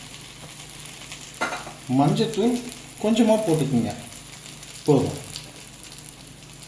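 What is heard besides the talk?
spices frying in oil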